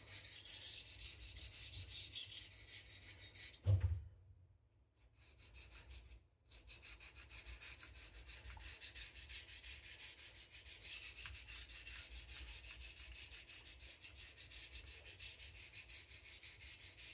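A thin gyuto chef knife being sharpened on a whetstone under about 200–300 grams of pressure, a steady rhythmic scraping rub broken by two brief pauses, close and fairly quiet.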